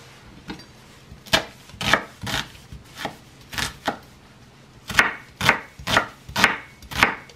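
A knife cutting an onion into half-moon slices on a board, about a dozen crisp chops in an uneven rhythm with brief pauses, close and clear with no talking.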